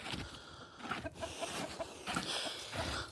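Chickens and roosters cluck and chatter in a farmyard, a busy overlapping mix of short clucks and murmurs close by, steady throughout at moderate volume with no talking.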